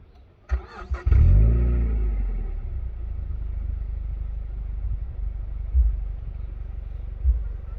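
A Mazda MX-5 NC with the 1.8 L engine and an aftermarket exhaust cranks briefly, fires up with a deep burst, then settles into a low rumbling idle, with two short throttle blips later on.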